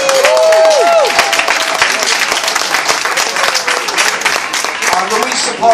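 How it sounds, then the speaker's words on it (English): Crowd applause at a political rally, dense sustained clapping and cheering from a large audience, loud and continuous throughout, with a voice briefly heard over it at the start. "So let's give Marcos Crispo a tremendous round of applause."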